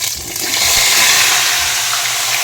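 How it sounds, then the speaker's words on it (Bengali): Water from boiled jackfruit pieces pours off in a strainer, a loud, continuous rushing splash close by that holds steady for the whole moment with no voices. "এবার এতে একটু আমি জলটা ছেঁকে নেব সুন্দরভাবে।"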